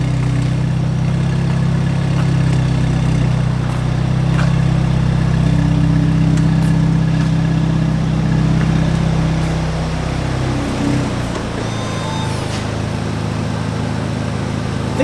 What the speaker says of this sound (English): Bringing the car in now.